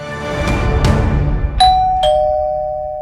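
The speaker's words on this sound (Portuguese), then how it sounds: "mirou o dedo na campainha" A house doorbell sounds near and loud after a short rustle. Two bright chime tones ring and then hang, ringing out slowly.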